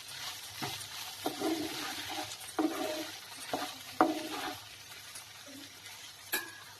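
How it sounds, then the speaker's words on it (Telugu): Curry being stirred in a frying pan, with soft scraping strokes and light sizzling; several distinct spoon knocks stand out at irregular intervals over a quiet, steady cooking hiss. "దీన్ని మళ్ళీ ఒకసారి మంచిగా కలిపేసుకుని తర్వాత మళ్ళీ ఒకసారి మూత పెట్టి కాసేపు మగ్గనిద్దాం"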